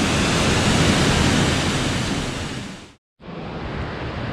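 Water rushing steadily over Cucumber Falls in Ohiopyle State Park, a loud, dense, continuous roar heard up close, with a brief cut to silence before the torrent resumes.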